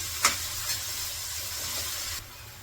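Leafy vegetables sautéing in a pan, a soft steady sizzle and hiss with a sharp utensil knock near the start and a few light stirring scrapes, fading slightly at the end.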